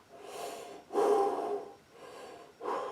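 Slow, soft breaths in and out before a trumpet note, airy and close like low wind, with a couple of louder rushing inhalations; no notes played.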